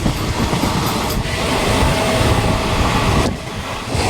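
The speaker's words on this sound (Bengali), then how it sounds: "পাশাপাশি ট্রেনের পাল্লা চলছে" Two local trains on the Ranaghat–Sealdah line run side by side, giving a loud, close, continuous rail rumble and clatter that eases slightly just before the end, with no talking.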